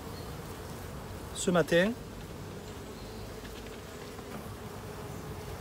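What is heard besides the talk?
honey bees buzzing around a beehive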